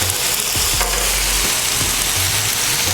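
Marinated chicken sizzles loudly in a hot fajita pan, a steady broadband hiss with occasional low thumps and shifting crackle, close and continuous, with no talking.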